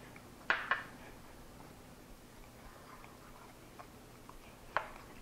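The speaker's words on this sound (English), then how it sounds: "We're just going to stir this all together." Buttermilk dressing is stirred into melted butter in a bowl, with two quick utensil clinks near the start and another sharp tap near the end over a quiet, faintly hissing background.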